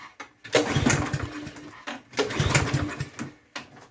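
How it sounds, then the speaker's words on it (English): A Husqvarna gas push lawn mower with a Briggs engine is cranked repeatedly: bursts of sputtering pull-start attempts that turn over briefly and die, separated by short pauses, close to the microphone. "what to do when your lawnmower attempts to"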